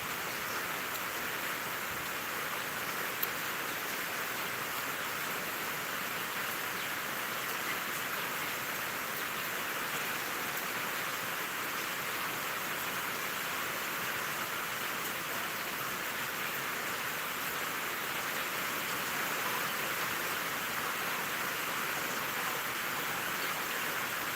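Rain falls steadily and evenly throughout, a soft continuous hiss at moderate distance with no talking.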